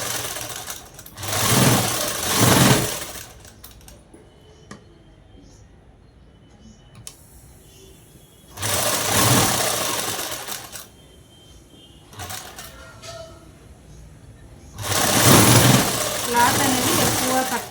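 A sewing machine stitching cloth for a collar-neck dress runs in three loud, rapid mechanical bursts separated by quieter pauses, with a voice speaking in between.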